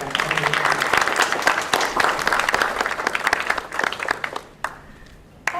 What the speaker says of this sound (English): So we definitely want to hand clap to them for Sharon